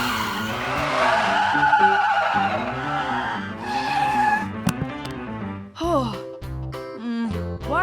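A cartoon bus brakes hard near a cliff, giving a long, loud, tonal tyre squeal that wavers and bends in pitch before cutting off, over bright cartoon background music.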